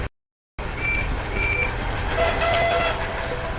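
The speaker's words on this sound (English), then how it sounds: "That was the saddest horn ever." A cartoon train horn, from a Thomas the Tank Engine style scene, gives a few thin, drawn-out toots over a steady rumbling railway background, fairly loud and close.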